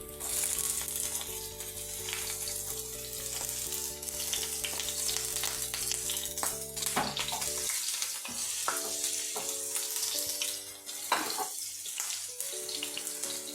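Chopped garlic and ginger fry in hot oil, giving a dense, steady sizzle with scraping stir sounds, while a sustained tonal music bed plays underneath for the first half and then drops away.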